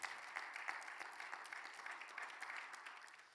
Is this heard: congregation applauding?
yes